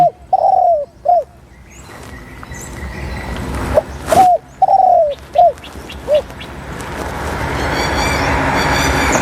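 A spotted dove coos in two phrases of soft, rolling notes, loud and close, while a low rumble like a passing train builds steadily underneath.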